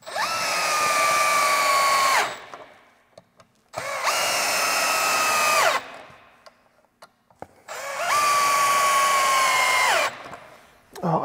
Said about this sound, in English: Oh, I love this drill.